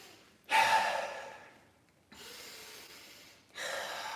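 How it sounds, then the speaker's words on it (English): Deep breaths drawn during a Qi Gong routine for Iron Body martial arts training: three long, forceful breaths, each starting abruptly and tapering off over a second or more, close and loud with no talking. "Nine breaths."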